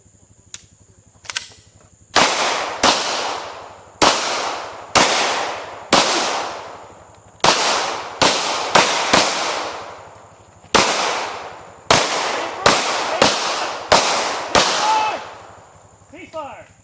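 Handgun shots on an outdoor shooting range during a basic handgun course: roughly eighteen loud, sharp, close cracks fired singly and in quick pairs, each ringing out briefly, with a faint voice near the end.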